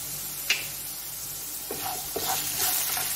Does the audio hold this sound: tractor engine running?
no